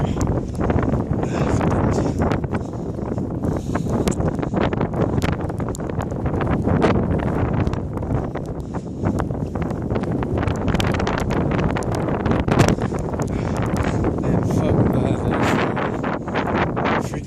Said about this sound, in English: Rain and wind